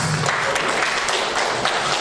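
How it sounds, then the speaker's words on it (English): Applause from the audience at a national conference fills the room, a dense, steady wash of clapping from a sizable crowd that stays even throughout, with no voices rising above it. "Another round of applause."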